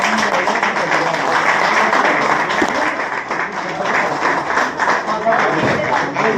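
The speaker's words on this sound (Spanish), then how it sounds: "demos un fuerte aplauso" Guests at a dinner tribute applaud loudly and continuously, the clapping mixed with voices talking nearby throughout.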